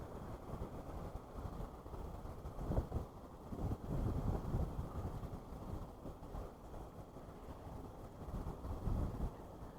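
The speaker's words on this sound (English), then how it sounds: "That wind is kind of cold." Wind buffets the microphone outdoors while fishing, a low, gusty rumble that swells and fades in irregular surges, with no one speaking.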